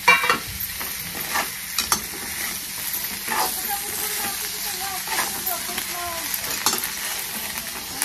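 Potato bhaji is stirred in oil in a pan for a dry Maharashtrian dish, giving a steady close sizzle with frequent scraping stirs and occasional knocks of the spoon.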